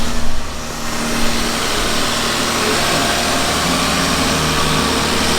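A Toyota Supra MK4 15th Anniversary Edition engine runs smoothly at a steady idle, a loud, even hum with a brief rise at the start and no talking.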